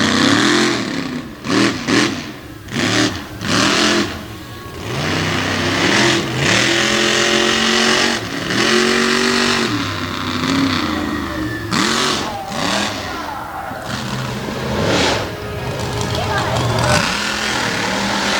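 Monster truck engines roar and rev hard through a freestyle run at a 2020 Evansville show, with bursts of throttle rising and falling, loud and close, under an announcer commentating over the arena PA.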